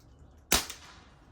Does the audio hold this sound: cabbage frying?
no